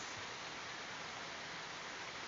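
Heavy rain pours in a steady, dense roar, close and continuous with no pauses and no voices.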